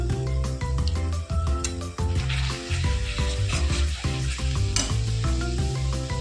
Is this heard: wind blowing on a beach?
no